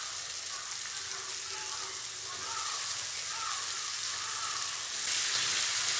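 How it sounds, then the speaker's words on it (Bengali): Cabbage dropped into cooked-down spice paste in a pan over low heat, giving a steady, fairly loud sizzle and hiss that swells slightly toward the end, with no talking. "এবার বাপিয়ে রাখা বাঁধাকপিটা দিয়ে দিচ্ছি"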